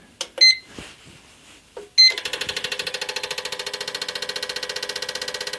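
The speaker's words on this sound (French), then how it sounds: "Là, il va au ralenti, il augmente les tours minutes." A Renault Twingo engine running during an acceleration test from idle; a few electronic beeps come first, then a rapid, even ticking pulse of the engine sets in and continues steadily, loud and close.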